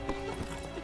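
Roach, a horse in The Witcher 3, trots with steady clip-clop hoofbeats at close range, with a few soft whinnying snorts mixed in over a dense background of game music and ambience.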